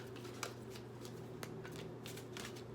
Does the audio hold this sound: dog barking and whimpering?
no